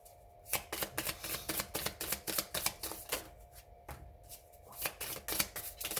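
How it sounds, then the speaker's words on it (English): Tarot cards are shuffled repeatedly in quick riffling bursts, close up and crisp, with short pauses between shuffles. "one more shuffle"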